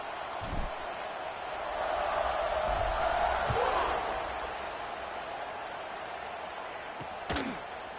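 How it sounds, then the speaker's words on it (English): A stadium crowd in an NCAA college football video game roars, swelling to a broad surge midway before easing to a steady murmur, with a couple of thuds. "this crowd is feeling themselves after that last drive"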